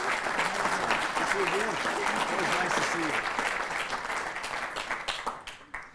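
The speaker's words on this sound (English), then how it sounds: "If we could give them a round of applause." A crowd claps in sustained applause that gradually thins out and fades, with voices talking underneath.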